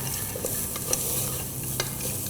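Ground coriander and cumin powder are stirred in a pan over a low, steady frying hiss, with a few soft spoon scrapes and taps.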